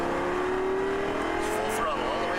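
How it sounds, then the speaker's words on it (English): A car engine pulls hard at full throttle coming out of a turn on a track, a steady rising drone close by, with a faint tire squeal and a driving instructor talking over it. "Accelerate out. Full throttle."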